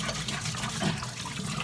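Water drains steadily out of a container of soaking sprouting seeds, a continuous close rushing and splashing with no pauses and no talk.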